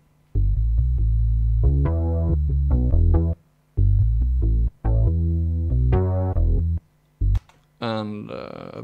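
Analog synthesizer bass line with deep, buzzy notes in short phrases broken by brief gaps, loud and close, ending with a short burst of brighter noise.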